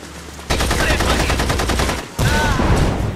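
Rapid automatic gunfire bursts out in The Saboteur, a loud dense volley running for over a second, a brief pause, then another sustained burst, with game ambience throughout.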